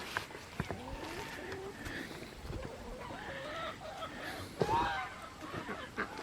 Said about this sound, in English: That other goose is up there.